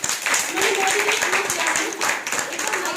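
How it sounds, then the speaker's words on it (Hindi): Dense clapping from a crowd, steady and loud throughout, with voices mixed into the noise. "जोरदार तालियां उनके लिए"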